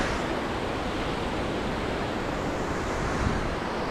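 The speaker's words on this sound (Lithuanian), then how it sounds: "Krioklys." A mountain waterfall on a hike near Zakopane roars as a dense, continuous rush of falling water that fills the whole clip, steady and loud with no voices.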